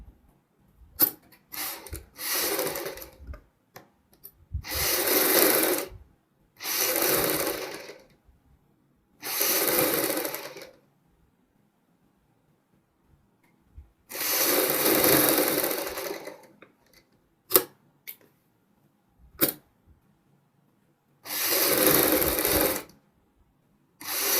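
A sewing machine stitches a kurti neckline through pasted paper, running in about eight separate bursts of steady whirring, each a second or two long, split by quiet pauses and a few short clicks, close and without talk.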